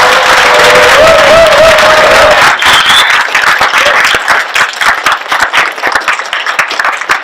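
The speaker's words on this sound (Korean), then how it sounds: "다시 한번 큰 박수 부탁드리겠습니다" An audience at a history lecture in Daegu, South Korea, breaks into loud, dense applause over a faint tonal hum. After a few seconds it thins into scattered individual claps that trail off.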